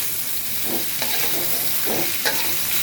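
Boiled, salted taro leaves are stir-fried in a pan with onion and garlic, producing a loud, constant sizzle broken by rhythmic spatula strokes roughly once a second.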